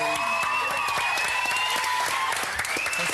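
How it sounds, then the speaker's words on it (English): Studio audience applause, a steady close wash of many hands clapping over faint background music, continuous for the few seconds. "maybe a big round of applause for Dave and Richie and Trina"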